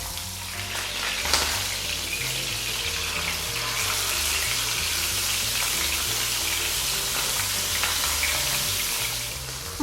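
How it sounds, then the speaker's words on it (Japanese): Fish searing in a hot pan with garlic over high heat for acqua pazza, a steady loud sizzle and frying hiss running throughout with a brief clatter near the start, no talking. "にんにくの香りが出てきたら魚を焼いていきます。"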